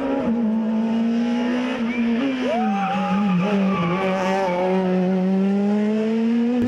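Rally car sliding through a stage during a physically demanding rally, with continuous engine drone and rising, wavering tire squeal as it skids, loud and close throughout.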